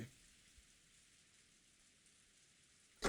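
Steady, faint rain falls in the visual novel Umineko no Naku Koro ni, a soft even wash with no other sounds until a brief louder bump at the very end.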